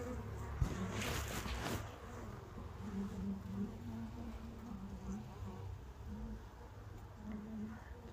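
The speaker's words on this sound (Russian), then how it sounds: "Пчелки спокойны." Honey bees in a winter hive give a soft, steady low buzz that runs throughout, fairly close and quiet, with some handling noise near the start.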